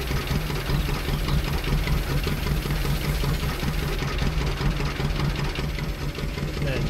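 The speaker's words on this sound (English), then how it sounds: "And shut off the tractor." An old Massey tractor engine idles steadily in Farming Simulator 19, a loud, continuous low rumble with a constant knocking throb that holds unchanged throughout.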